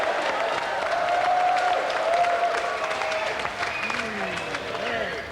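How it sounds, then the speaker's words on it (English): A television game-show studio audience applauds a winner, steady mid-level clapping and cheering that carries throughout, with voices heard over it. "let's have another round of applause for our winner, Sonny Nair, and our gallant loser, Emlyn Hu"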